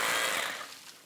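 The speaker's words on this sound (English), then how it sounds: "when we're drilling into concrete, we must wear our eye protection." A power drill bores into a concrete foundation with a harsh, gritty, high-pitched grinding whir, loud and close, easing off slightly toward the end of the short burst.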